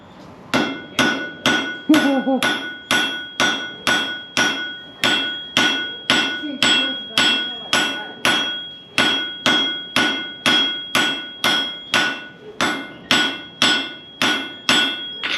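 A blacksmith hammers hot metal to forge-weld it at a historical ranch park in Texas: steady, evenly spaced ringing hammer blows, about two per second, loud and close, continuing without pause.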